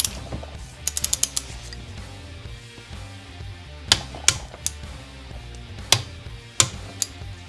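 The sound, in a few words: tightening the two engine screws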